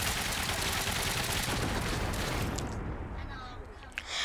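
Three miniguns on a custom vehicle in the Trailmakers video game fire continuously, a loud, dense stream of shots that thins out near the end, with a few sharp bangs following.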